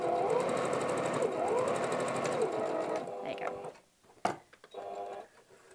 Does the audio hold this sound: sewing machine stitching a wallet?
yes